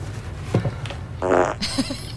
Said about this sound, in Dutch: een scheet erop gemonteerd